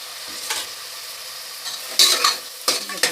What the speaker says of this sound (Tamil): இந்த தக்காளி நல்லா வதங்கட்டும்.